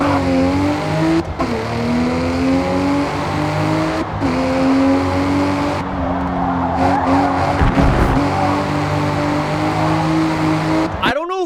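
A race car in Forza Motorsport revs hard with a loud, high-pitched engine scream that climbs and drops through gear shifts, punctuated by tire squeal and skids, with a voice talking over it.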